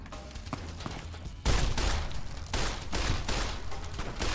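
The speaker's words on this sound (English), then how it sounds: "I'll actually use my guns." Gunfire in Fallout: New Vegas, starting with quieter scattered shots and then a sudden loud burst of rapid repeated shots that continues in waves to the end.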